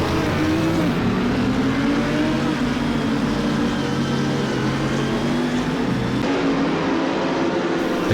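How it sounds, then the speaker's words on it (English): A pack of GT3 race cars in Assetto Corsa roars down the Mistral Straight at Paul Ricard, with a steady, continuous engine drone and layered exhausts throughout. "the cars thunder onto the Mistral Straight for the first time"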